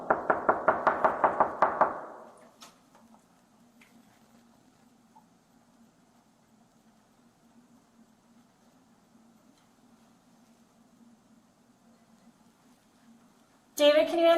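A sheriff's officer raps on a house's front door: about seven quick, loud, evenly spaced knocks in the first two seconds, then a long near-silent stretch with a faint hum before a voice begins at the end.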